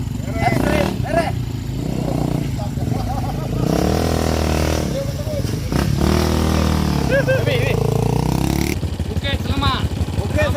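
A motorcycle rides through a flood-hit area, its engine loud and close with revving and rising and falling pitch throughout, while people talk over the engine noise.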